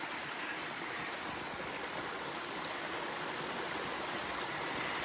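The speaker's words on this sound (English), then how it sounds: "come across a stream with a waterfall" A stream rushes steadily over a small waterfall on the Appalachian Trail, a constant even wash of water with no voices.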